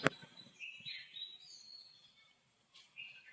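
A few short, high chirping bird calls in a quiet outdoor setting in Konkan, with brief pauses between them and faint background noise.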